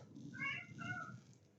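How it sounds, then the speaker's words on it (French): A domestic cat meows twice in close succession, two drawn-out mid-pitched cries at moderate distance over a low indoor rumble. "c'est comme ça depuis ce matin, à miaouter"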